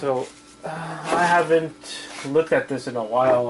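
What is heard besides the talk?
None of the usual background noises is heard.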